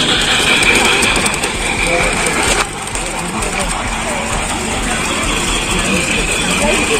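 A bullet train runs through a tunnel in Germany, producing a loud, steady roaring rumble heard from on board, dense and continuous with a brief dip partway through.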